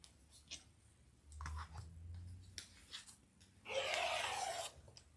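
Scissors cut the selvage from a folded length of 42 to 44 inch quilting cotton on a sewing table, a close, loud burst of rasping shearing lasting about a second, preceded by scattered light clicks and rustles of the cloth being handled.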